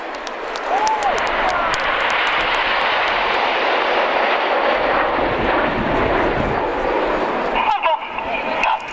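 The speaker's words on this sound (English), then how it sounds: "coming in from the left with some red and white smoke, this is Typhoon" A Eurofighter Typhoon combat jet trailing red and white smoke roars past at a Red Arrows air display, a loud sustained jet rush, with a commentator talking over it and a dog barking briefly.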